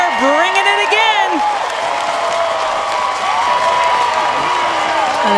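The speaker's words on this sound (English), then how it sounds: "And this Minnesota crowd is on their feet as the inning continues." Stadium crowd at a college women's softball game cheering and applauding as a run scores, loud and sustained, with whoops and whistles rising early and an announcer talking over the roar.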